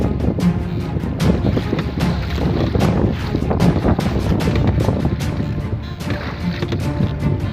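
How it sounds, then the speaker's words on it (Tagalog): Strong wind buffets the microphone in loud gusts while waves slosh and splash against a fishing boat at sea, continuous and rough throughout. "Medyo hindi namin matiis yung lakas ng hangin at saka lakas ng alon"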